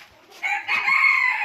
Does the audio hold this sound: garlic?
no